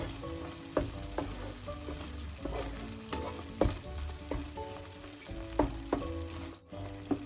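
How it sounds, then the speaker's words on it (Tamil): Grated coconut and other ingredients for a Tamil susiyam filling are stirred in a hot pan, with rhythmic spatula scrapes and clacks over a constant close sizzle. "இந்த தேங்காய் இது எல்லாத்தையும் நல்லா கலந்து விடுவோம்."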